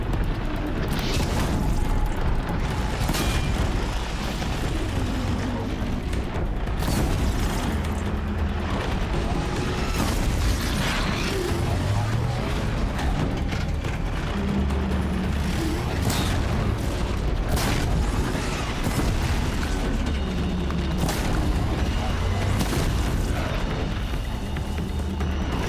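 Explosions in the video game Horizon Zero Dawn, heavy booms and bursts recurring across a loud, constant roar of combat noise, with some voice-like sounds mixed in.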